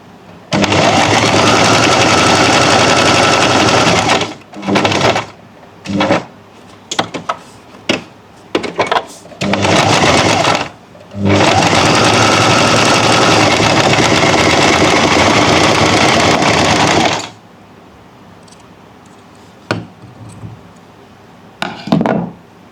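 Sewing machine stitching a neckline corner on a garment, running in long steady bursts with several short stop-start runs between them, close and loud, then quiet near the end.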